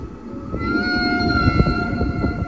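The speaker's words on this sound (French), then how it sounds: "Enregistrement de chant de baleine en 1967." A 1967 recording of whale song: long, sustained tonal calls that glide and hold steadily over a dense, crackling underwater rumble, continuous and fairly loud throughout.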